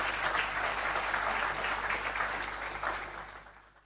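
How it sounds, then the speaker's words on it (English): Audience applause fills a ceremony hall at a regional top awards event in St. Lucia, a steady dense wash of clapping that holds strong and then gradually fades toward the end. "Could you please give them a round of applause?"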